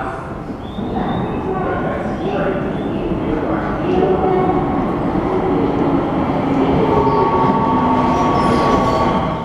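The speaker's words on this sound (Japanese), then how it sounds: "急行新宿行きが10両編成で参ります。" A 10-car Keio Line express train bound for Shinjuku rolls into Hashimoto Station with a steady mechanical rumble, faint wheel squeal and rail clatter, while a station announcement voice talks over it.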